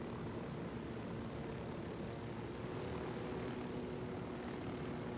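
A steady, droning helicopter rotor and engine roar in Ghost Recon Wildlands holds at an even level throughout, with no voices.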